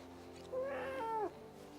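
A single pet cat gives one clear, drawn-out meow lasting under a second with a falling end, fairly close and alone against a quiet room hum.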